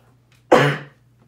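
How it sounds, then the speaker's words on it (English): A single short, harsh cough close to the microphone, fading quickly, set against a faint low hum. "Sorry, had a little cough there."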